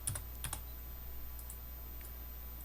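Computer keyboard keys pressed during Tinkercad 3D modeling work: a few sparse, light clicks near the start and a couple more later, quiet against a steady low hum, no talking.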